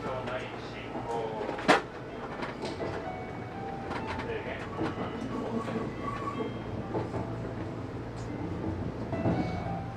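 Inside the Kintetsu Shimakaze limited express as it arrives at Toba Station: a steady onboard rumble with a sharp clack near the start, faint cooing pigeons, and voices talking underneath.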